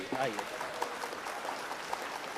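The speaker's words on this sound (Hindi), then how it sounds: "और एक दफ़ा ज़ोरदार तालियों से रियाज भाई का इस्तकबाल कर लीजिए।" Audience applause at a mushaira poetry gathering in India, steady clapping sustained throughout under a faint voice, moderately loud.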